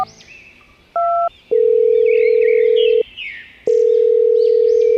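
A telephone call is placed: a short two-tone dial beep, then long steady ringback tones separated by a brief gap, loud and clear with faint background sounds.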